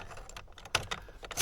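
A bunch of keys, including keys for a 2008 Chevy Suburban, jangles and clinks close by in a quick series of bright metallic rattles.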